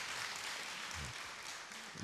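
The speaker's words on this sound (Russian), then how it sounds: "Аплодисменты, мне кажется, даже." Audience applause, a steady wash of clapping from a crowd sustained throughout at moderate volume.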